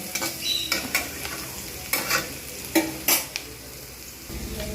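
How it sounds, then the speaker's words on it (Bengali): Bottle gourd kofta balls fry in oil in a pan over medium heat, a low continuous sizzle broken by repeated clinks and scrapes of a utensil turning them, close and fairly quiet. "মিডিয়াম আছেতেই আমি কিন্তু এগুলো লাল করে ভাজতে থাকবো"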